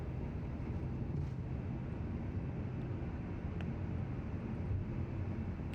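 An Airbus A350 climbs out after takeoff in Microsoft Flight Simulator 2020, with a steady, dense engine roar that holds constant throughout and has no talking over it.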